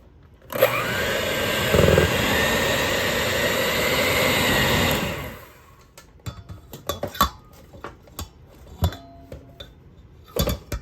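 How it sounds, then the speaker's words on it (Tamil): A mixer grinder jar whirs steadily for about five seconds while beating yogurt cake batter with baking powder and vanilla, loud and continuous, then cuts off, followed by scattered clinks and knocks of the jar and utensils. "இப்போ இவ்வளத்தையும் வச்சு ஒரு ஜோக்கெட்டில் கேக் அடிக்க போகிறேன்"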